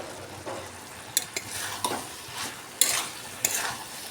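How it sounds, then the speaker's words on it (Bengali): Fried potatoes and pointed gourd stirred in a sizzling pan, soft scraping strokes with a few sharp metallic taps of the spatula against the pan, close and steady over a low frying hiss. "এটাকে এর সঙ্গে খুব নেড়েচেড়ে ভালো করে মিশিয়ে নেব"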